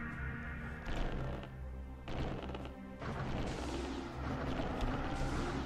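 Dense, continuous game combat din as an enemy ship fires missiles at the player's ship in a space-combat game, loud overlapping booms and crashes with surges around each second, no voices.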